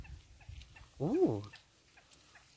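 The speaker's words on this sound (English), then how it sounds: "did you hear that sound? That is bird." A turkey-like fowl in a rice field gives a short warbling gobble, one clear burst at moderate distance over quiet outdoor background noise.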